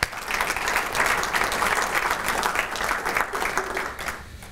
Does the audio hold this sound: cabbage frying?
no